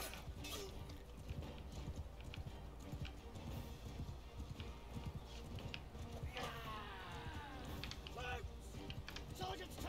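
Galloping horse hooves in Bannerlord II: a steady rhythmic clatter runs beneath the battle din and clashing noise, with a voice talking over it throughout.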